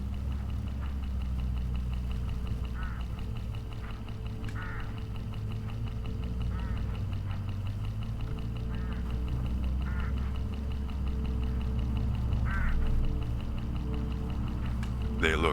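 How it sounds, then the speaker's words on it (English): Hooded crows calling along a road in a video game, with a few scattered harsh caws over a constant low engine rumble from a vehicle, the calls faint to moderate and spaced out. "Look, hooded crows all along this road."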